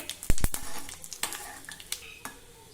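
Mustard seeds, cumin and a tablespoon of sesame seeds tempering in hot oil for a Maharashtrian vegetable dish, with sharp popping crackles and a few loud pops early on over a soft sizzle.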